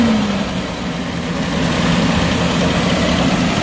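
A Toyota Hiace van's 3Y petrol engine idles with a steady, even low rumble and smooth vibration, heard up close and unchanging with no talk.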